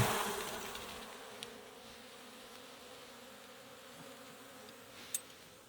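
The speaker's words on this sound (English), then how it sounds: "I'll shake the bees off like we did the first one." Honey bees buzzing softly as they are shaken off Langstroth hive frames during conversion to Layens frames, a faint steady hum with a couple of brief knocks.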